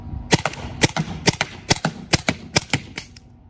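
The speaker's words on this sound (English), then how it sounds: "So gonna shoot it, and then when it's out of ammo, you can hear the air burst rather than the loud cycling" A Tippmann TiPX paintball pistol fires a rapid string of about ten sharp, loud pops in quick pairs and singles, each shot crisp and close with brief gaps between.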